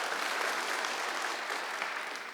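A church congregation claps together during an online worship service, a continuous, even burst of many hands filling the sanctuary without a break.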